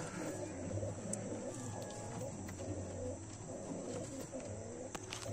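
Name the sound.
pigeons cooing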